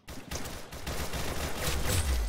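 Gunfire in the Roblox game Arsenal: a dense rapid fusillade of shots that runs continuously for a couple of seconds, with no voices over it.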